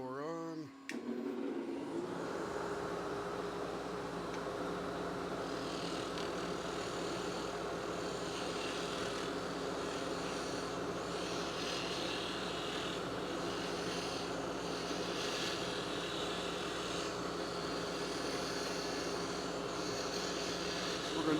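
An electric blower runs steadily and close throughout, a continuous whirring hum set up beside a lathe for pen turning, holding constant level without pauses.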